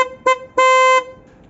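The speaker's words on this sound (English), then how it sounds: "The original horn sounds like this" Stock single-tone horn on a Nissan Qashqai J11 sounded close by, a brief toot followed by a longer half-second blast, bright and nasal in tone, dying away quickly.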